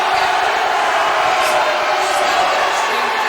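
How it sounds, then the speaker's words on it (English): Loud, dense crowd cheering and roaring at a boys' and girls' swimming championship meet, a steady wall of shouting voices filling the pool hall for the whole stretch. "Oh, man, you can hear the crowd just going Heidi"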